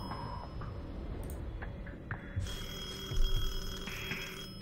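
An old-style telephone bell rings in the horror video game Detention, with repeated steady tones over dim ambient noise.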